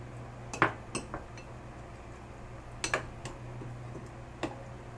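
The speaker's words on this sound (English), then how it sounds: "and then just stir it." Semolina and curd batter for rava idli stirred in a bowl, heard as a few sparse, close clicks and taps of spoon against the dish over a quiet hum.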